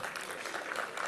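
Audience applause at an Urdu mushaira poetry recital, a steady dense clapping from a crowd that fills the whole moment without letup.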